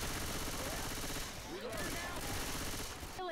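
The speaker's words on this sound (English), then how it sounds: "I'm just shooting at things and it's not helping anybody." Sustained rapid video game gunfire, steady machine-gun style rattling that fills the stretch at moderate level, with a voice talking over it and brief game sound effects near the middle.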